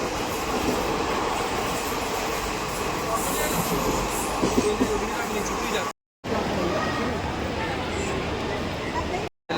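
A nearly empty train carriage heading into Mumbai rumbles and rattles steadily as it moves, a constant low roar with faint clacking, briefly cutting out twice.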